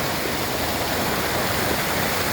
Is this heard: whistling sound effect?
no